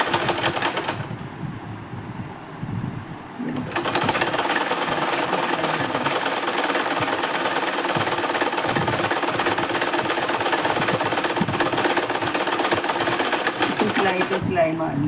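A sewing machine stitches a blouse in a loud, rapid, continuous mechanical chatter, with a brief slower stretch near the start before it runs steadily, heard close up with a voice talking over it.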